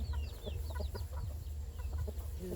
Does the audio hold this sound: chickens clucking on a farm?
yes